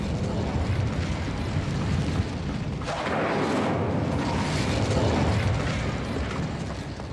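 The Incendio fire spell being cast in Hogwarts Legacy, a loud roaring, crackling whoosh of flame that swells after a few seconds and sustains steadily to the end, without talking.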